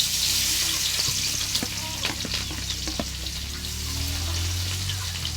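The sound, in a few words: garlic and onion sautéing for pancit bihon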